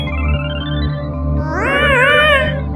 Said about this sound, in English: There we go, we got the cat effect.